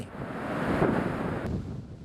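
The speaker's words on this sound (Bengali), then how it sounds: "এভাবেই পানি আঘাত হানে উপকূলীয় এলাকায়" Cyclone storm surge water and strong wind striking a Bangladeshi coastal area, heard as a steady roaring rush of wind and surging waves that swells midway and buffets the microphone.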